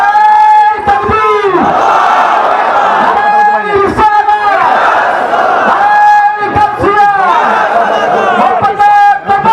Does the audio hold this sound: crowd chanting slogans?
yes